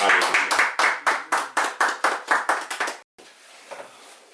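A church congregation at a worship service claps in rhythm to acclaim the Lord, about a dozen even, loud beats that stop abruptly and give way to a quieter murmuring hall.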